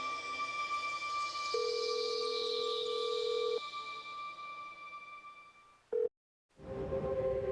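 Telephone tones while a call is placed: a steady dial tone, then a sustained dialing beep, a brief cutoff into silence, and a new tone as the line connects, clear and alone.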